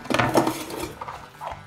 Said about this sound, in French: Un bol, des couverts